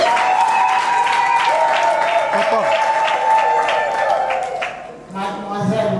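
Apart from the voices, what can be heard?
wedding guests applauding at a civil ceremony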